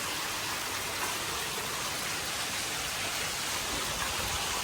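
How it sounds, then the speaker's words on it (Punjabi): Heavy rain pours steadily throughout, a dense, continuous hiss of water drumming on surfaces with no pauses or voices. "ਪੂਰਾ ਤਗੜਾ ਮੀਂਹ ਪਿਆ"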